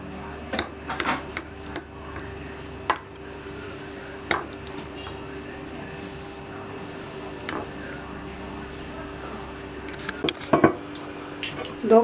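Beef tikka karahi being mixed in a cooking pot, scattered sharp metallic clinks and scrapes of a spoon against the pot over a low steady background, with bursts clustering near the end.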